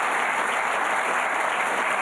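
Audience applause at a German live talk show event, a dense, even burst of clapping from a crowd that stays loud and steady throughout, with no talking over it.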